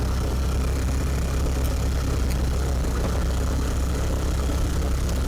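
A steady ATV engine droning while riding a wooded trail, continuous mid-to-low rumble at constant loudness with no talking.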